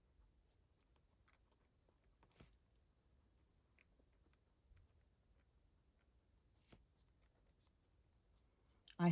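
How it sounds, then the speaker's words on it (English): Handwriting with a pen on paper, very faint scratchy strokes in a few short bursts over quiet room tone, ending with a brief knock. "and I should write that down."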